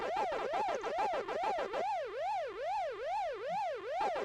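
The ghost siren from the Pac-Attack game, a looping electronic wail that goes up and down in even, steady cycles, changing to a smoother, cleaner tone partway through without speeding up.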